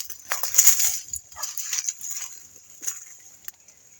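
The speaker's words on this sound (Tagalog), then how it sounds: "may mga aso na tumatahol" Dogs bark during an outdoor spider-hunting walk in the Philippines. The barks are faint and scattered over a hiss of insects, with no talking.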